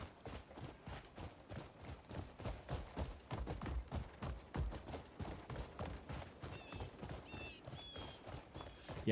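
Horse hooves clip-clopping in the video game Crimson Desert, a steady rhythmic run of hoofbeats mixed with game sound and music, fairly loud throughout.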